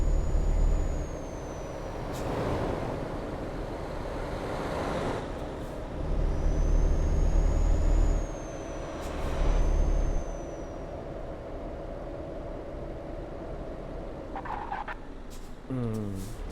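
Truck air brakes in Euro Truck Simulator 2 hiss in short bursts over a steady low engine drone, with a brief sharp rattle near the end.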